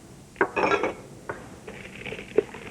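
Coleslaw being mixed in a bowl with chopped peanuts and minced fresh cilantro: a few light clinks and scraping rattles of a utensil against the bowl, brief and moderately close, then quieter stirring.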